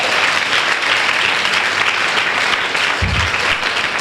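A church congregation applauds in a steady, loud wash of clapping that fills the room continuously, with a low thump partway through.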